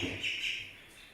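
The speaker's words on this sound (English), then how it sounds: "those birds are distracting while I'm talking" Birds chirp and tweet in the background, a faint, steady high twitter running through the whole moment with no one talking over it.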